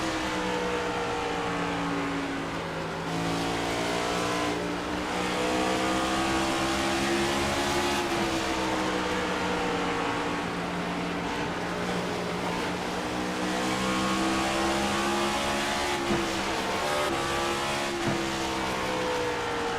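Race car engines roar continuously at Bristol in an iRacing Cup Series race, several cars droning and shifting pitch together as they circle the track in traffic, with no talk over them.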